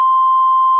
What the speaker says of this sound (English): Sorry for the beep you just heard